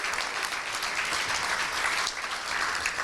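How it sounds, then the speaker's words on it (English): A chamber of commerce awards dinner audience gives a gold sponsor a round of applause, dense clapping steady and close for a few seconds with no one speaking over it. "Let's get our hands together for Northfield Bank"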